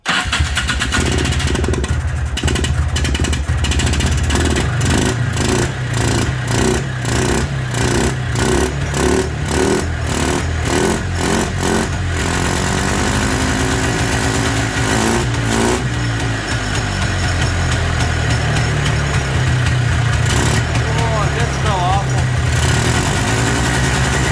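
Two-stroke engine of a 1994 Polaris 300 2x4 ATV with a clogged carburetor, running loud and close with a sputtering, pulsing idle that settles into a steadier drone; voices talk over it.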